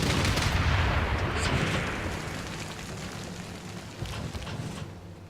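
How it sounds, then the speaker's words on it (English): A battleship bombards a target in Civilization 6. Loud booming cannon fire and rumbling blasts start strong, then ease into a dense, fading roar with a few later thuds. No one speaks. "Move my battleship closer into position to also bombard."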